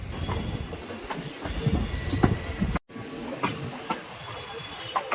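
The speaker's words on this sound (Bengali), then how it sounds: "ট্রেন আমাদের ঢুকছে দমদম স্টেশন, আর ট্রেনের এক্সেলারেশন কিন্তু আস্তে আস্তে বাড়ছে" A train accelerating into Dum Dum station rumbles and clatters along the rails with rhythmic wheel clicks and faint squeals, steady and close, briefly cutting out midway.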